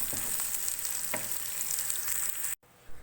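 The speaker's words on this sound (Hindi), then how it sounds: "ऑयल हमारा गर्म हो जाएगा तो हम इसमें ये प्याज शामिल करते हैं। प्याज को हमें गोल्डन ब्राउन करना है।" Onions frying in hot oil for matar pulao make a bright, steady sizzle with a brief stir midway, heard close before the sound cuts out abruptly near the end.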